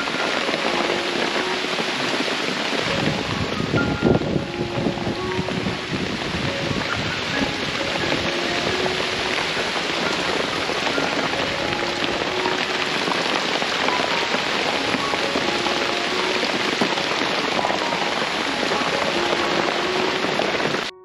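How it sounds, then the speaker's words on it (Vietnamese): Heavy rain falls in a forest, steady and dense with drops drumming on leaves and surfaces, a continuous loud wash with no talk. "Mưa rồi."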